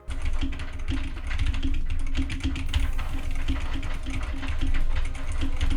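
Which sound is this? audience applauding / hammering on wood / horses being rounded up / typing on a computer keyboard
typing on a computer keyboard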